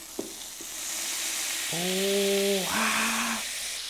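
A burger meat patty frying in oil gives a steady, close hiss and sizzle, with a couple of small knocks at the start and a voice exclaiming briefly over it.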